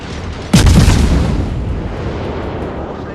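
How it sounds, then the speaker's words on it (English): A loud battleship artillery salvo booms out in the World of Warships naval game: one sharp blast followed by a long rumbling decay that fades slowly over the next few seconds. "Continue firing on the Fubuki"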